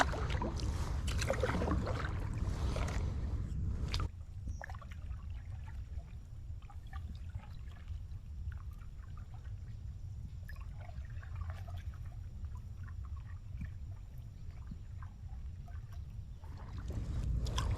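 A Sloosh Ripple 10'6" stand-up paddle board being paddled on open water, with steady watery sloshing and soft splashes from the strokes, a little louder at the start and continuing without talk.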